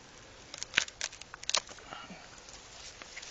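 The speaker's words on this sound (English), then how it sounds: "So you're trying to cut the center strands." Date palm flower strands being cut give a short cluster of crisp, close snips, followed by quieter rustling.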